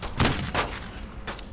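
Several broadband bursts of gunfire in Brothers in Arms: Road to Hill 30, a WWII shooter set around Vierville, arriving as three loud separated volleys over a continuous battle din.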